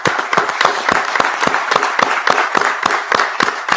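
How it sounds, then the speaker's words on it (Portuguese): An audience claps in tribute to the football coach Zagallo: loud, fairly regular hand claps in a quick rhythm, each clap sharp and distinct, a smaller group rather than a roaring crowd, with no voices over it. "Salva de palmas ao mestre Zagallo em vida"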